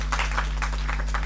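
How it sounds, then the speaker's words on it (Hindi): An audience applauds at an Urdu mushaira poetry gathering. A short burst of clapping comes through over a steady low electrical hum from the hall's sound system. "जोरदार तालियां"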